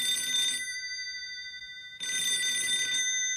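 Telephone ringing in a Doraemon cartoon scene, two electronic ring bursts separated by a short silent pause, loud and close with no talk over it.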